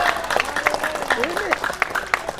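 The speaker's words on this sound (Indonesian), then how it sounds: "Tepuk tangan langsung gitu" Scattered, sharp claps ring out from a church congregation during a fiery sermon, while a voice talks loudly over them.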